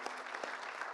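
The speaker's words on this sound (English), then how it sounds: "just one more round of applause for Austin being so brave to get up here" Audience applause at a 1 Million Cups startup pitch event in Springfield, Missouri: a steady patter of many hands clapping, moderately near, filling the moment without speech.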